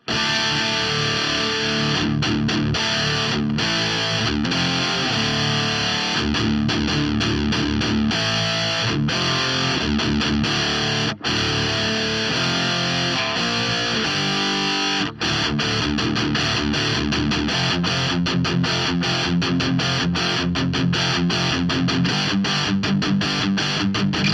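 Loud, continuous distorted electric guitar through a TC Electronic Dual Wreck amp, with crunchy sustained chords and riffs and a few brief gaps, no voices.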